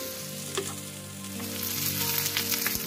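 Onions sizzle steadily in a hot pan, a constant crackling hiss with a few small pops, close by and with no talking.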